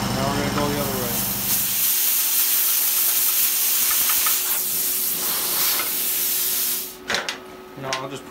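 A $200 eBay plasma cutter slicing through 3/8-inch thick steel plate makes a loud, steady, close hiss and roar that runs unbroken for several seconds and then cuts off, followed by brief clatter.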